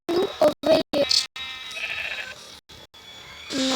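Several short sheep bleats in a survival video game, a quick run of close, loud calls followed by a quieter stretch of game ambience and a final louder burst.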